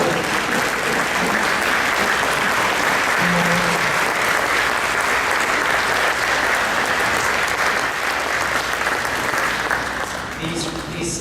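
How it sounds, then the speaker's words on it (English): At the 2019 ecomaine annual meeting, a large audience applauds ecomaine staff with steady, sustained clapping that fills the room for about eleven seconds and thins slightly near the end. "if the staff at ecomaine could please stand to be recognized, and a round of applause"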